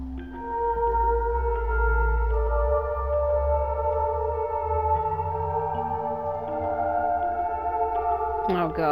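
A slow piano melody from Fatal Frame 4, played note by note from a score, sustained tones ringing over a low ambient drone, ending with a brief sharp sound.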